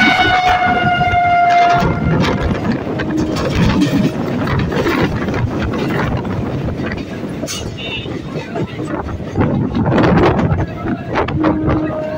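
A local train on the Sealdah–Krishnanagar line rumbles and rattles along at speed after leaving Ranaghat, with wind buffeting the microphone, a brief horn-like tone near the start, and voices talking intermittently.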